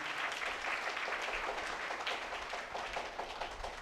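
A church congregation at a Tamil novena mass claps in thanks, a steady, even wash of many hands clapping throughout the moment at moderate distance, with no speech over it.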